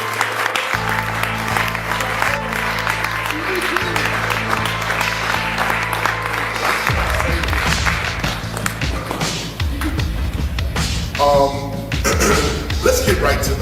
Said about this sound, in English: Let us all give a wonderful round of applause for the teacher,